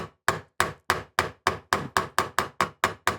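A hammer strikes a screwdriver eleven times in a steady, evenly spaced rhythm, tapping to reform the worn screw slot on a Bing carburettor of a BMW R75/6 motorcycle; sharp, close metallic knocks with no voices.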